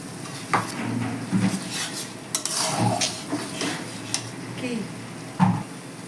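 Spice paste for a katla fish kalia, mixed with yogurt and raisin paste, stir-fried in a pan: a steady low sizzle under repeated scraping strokes of a spoon, with a few sharper clinks against the metal.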